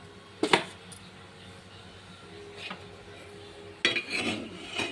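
A cooking pot set down on a gas stove to heat, with a couple of short metallic clanks and scrapes close by, separated by quiet pauses.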